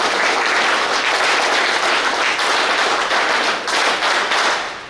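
Sustained, dense audience applause at a ceremony for the 2000th alcohol de-addiction camp in Deralakatte, Mangaluru, loud and steady throughout with no speech.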